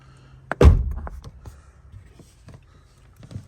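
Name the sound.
pulling the rear door handle of a Honda Accord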